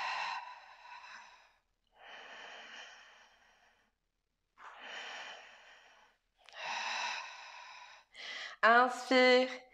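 Slow, deliberate breaths in and out during a Pilates exercise come as long airy inhales and exhales separated by short pauses, close and clear, ending with a short burst of speech.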